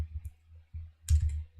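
Quiet clicks of fingers typing commands on a computer keyboard, coming in two short, close bursts separated by brief pauses, with no voices.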